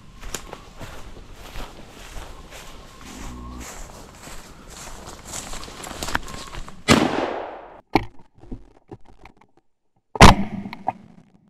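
A single loud, close shotgun blast rings out during woodcock hunting in the woods, followed by a sharp echoing decay, with rustling footsteps before it and another sharp bang later.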